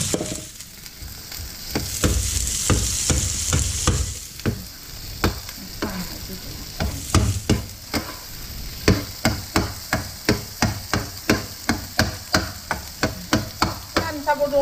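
Tomato scrambled eggs made with cherry tomatoes being stir-fried, with a steady sizzle under a spatula scraping and tapping the pan, the strikes growing into a regular, even rhythm; no one speaks.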